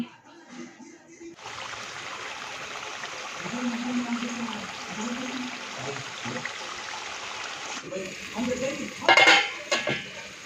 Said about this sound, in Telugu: వాటర్ పోసుకొని మంచిగా చికెన్ అయితే ఉడకనివ్వాలి